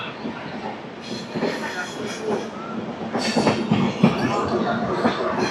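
Golconda Express, the 17201 Guntur–Secunderabad train, rolls along the line with rumbling carriages, rhythmic clatter and bursts of wheel squeal, growing louder toward the end.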